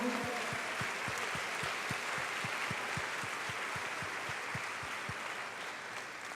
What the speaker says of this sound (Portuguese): Quer aplaudir ao Senhor?